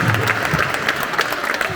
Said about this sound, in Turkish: Şimdi bütün çocuklar alkışlayalım.